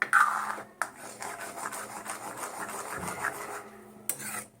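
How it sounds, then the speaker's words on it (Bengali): A spoon steadily scrapes and stirs thickening payesh, a Bengali rice pudding, around the bottom of a pot. The rough rubbing continues close and fairly loud without any talk. "এইভাবে নাড়তে হবে, কেন বলো তো, নাহলে নিচে লেগে যাবে"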